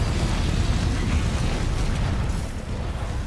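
Teostra, the fire elder dragon in Monster Hunter World, sets off a roaring explosion, a sustained dense rumbling blast with crackling fire that holds loud for the full length without fading.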